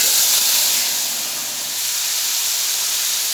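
Turmeric, cumin, red chili powder and fenugreek sizzle in hot oil in a pan for a rohu fish curry, giving a steady, close, bright hiss that carries on unbroken with no talking.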